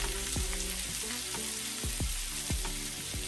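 Butter melts and sizzles in a pan alongside minced garlic, lemon and basil, a dense close crackle with a few sharp knocks of a utensil against the pan, no speech.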